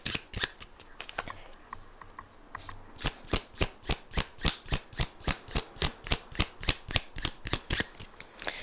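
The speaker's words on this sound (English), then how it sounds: "now I'm going to pull some tarot cards" Tarot cards being shuffled close up, a soft rustle at first and then a steady run of about twenty crisp, evenly spaced riffling snaps, with no talking.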